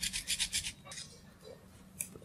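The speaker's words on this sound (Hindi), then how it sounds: "इसको हेक्सा भी बोलते हैं, इससे आप इसको यहाँ से ऐसे कट कीजिए।" A hacksaw cutting through a plastic clothing security tag, a few quick rhythmic rasping back-and-forth strokes close up, then scattered lighter scrapes.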